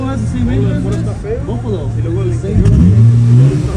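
Car engine revving at a street car meet, a mid-pitched motor climbing and falling in pitch, rising strongly near the end, with people talking nearby underneath.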